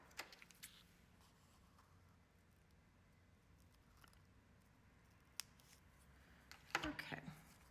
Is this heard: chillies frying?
no